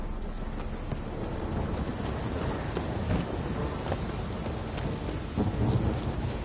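Steady rain pours during a thunderstorm in The Witcher 3, a dense constant hiss with low rumbles of thunder swelling through it, loud and enveloping for several seconds.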